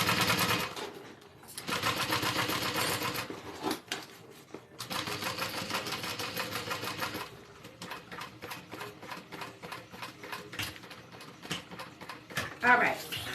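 A sewing machine top-stitches a black leather wallet in rapid mechanical runs, broken by short pauses and restarts, with a faint clatter between passes.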